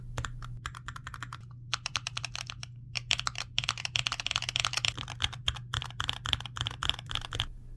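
LTC Crystal red full-size mechanical switches with orange caps on an all-button controller, pressed in rapid irregular bursts of crisp clicks and clacks, close and alone over a low steady hum.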